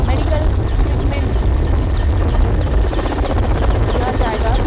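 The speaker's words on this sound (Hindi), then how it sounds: "जवानों को निकाला जा रहा है हेलीकॉप्टर से" Military helicopter evacuating wounded soldiers after a Naxal IED blast near Chakradharpur, its rotor and engine a loud, steady low drone throughout, with voices and crowd noise mixed in underneath.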